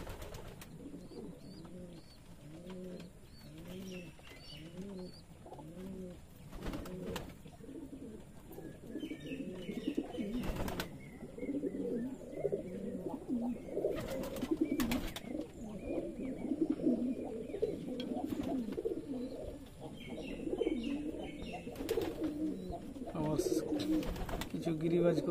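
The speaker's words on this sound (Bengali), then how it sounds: "কিছু গিরিবাজ কবুতর খাওয়া দাওয়া বাদ দিয়ে ডাকাডাকি করে। আর ওইখানে রেসার কবুতরটাও খাওয়া দাওয়া বাদ দিয়ে ডাকাডাকি করে শুধু।" Giribaz and racer pigeons coo steadily in a loft, with overlapping throaty calls repeating in a continuous rhythm near and far. Occasional short knocks and faint chirps break in over the flock's constant cooing.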